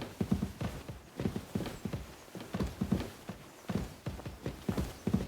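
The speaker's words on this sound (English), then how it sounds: "get your horse and we'll meet at the gate" Horse hooves clip-clop at a steady walking pace in the medieval video game Kingdom Come Deliverance 2, a close, even rhythm of repeated hoof strikes with no talking.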